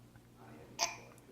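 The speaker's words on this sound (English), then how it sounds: "One more big burp." A child burps once, a short bright burst standing out from a quiet room with a low steady hum.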